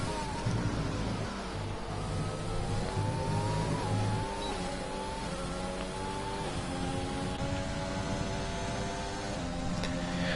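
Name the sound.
rally car engine revving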